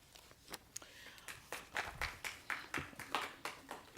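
Audience at a Sonoma city council meeting clapping after a 5-0 vote, a sparse, faint patter of individual hand claps in a quiet room, speeding into a steadier rhythm midway.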